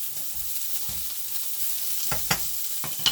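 Chicken drumsticks and potato wedges sizzle and crackle in a hot pan on a stove at fairly high heat, a steady frying hiss with occasional sharper pops and spatters, close and moderately loud.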